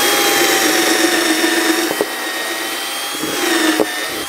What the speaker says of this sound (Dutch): als eerste wat we gaan doen is twee gaatjes gaan we boren